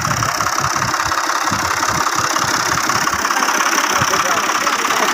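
An Al-Ghazi tractor engine runs during a field rescue, a loud, close, continuous chugging rumble that holds steady throughout.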